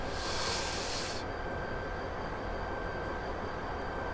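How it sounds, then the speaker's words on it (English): A Class 59 freight train rumbles past on the Medway Valley Line in Train Simulator 2018, a loud, dense roar of wheels and wagons with a steady high whine, a brighter hiss fading after the first second. "It's like watching freight train go past."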